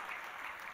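Quiet, brief clapping from a church congregation during a Sunday worship service, soft and distant, a short patter of hands.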